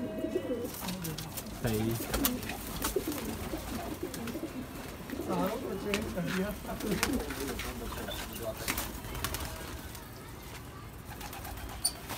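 Pigeons kept as tumbling birds, cooing repeatedly in soft, low, throaty phrases close by, with people talking over much of it.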